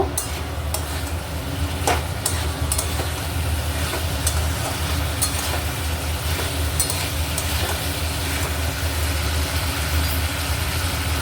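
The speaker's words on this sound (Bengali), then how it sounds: "এটা আমি ভালো করে একটু কষে নেব মশলার সাথে ভালো করে কষে নেব" Potatoes and pointed gourd stir-fried with spices in a pan for an Indian-style dalna make a continuous, dense sizzle and hiss with occasional sharp ticks, loud and unbroken throughout.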